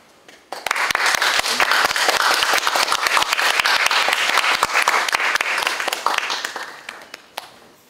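Lecture audience welcoming documentary director Jeon Hoo-seok with warm applause; sharp, close individual claps ring out within a thick, sustained round of clapping that starts abruptly and thins out toward the end.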